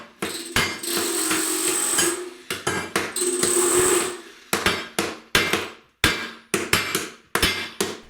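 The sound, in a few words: hammer smashing glass in plastic bags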